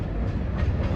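A Finger Lakes Railway freight train with gondolas and covered hoppers backs up. The rumble and clatter of the rail cars are steady and fairly close, and no voices are heard.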